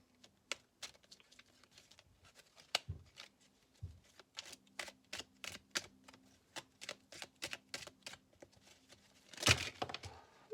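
A deck of advice cards is shuffled, a run of quick rhythmic riffling snaps and taps, close and crisp in a quiet room, ending in a louder flurry of cards.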